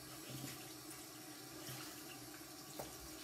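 A makeup-removal glove is rinsed under a running tap: a steady, soft rush of water with faint splashing, continuous and fairly quiet throughout.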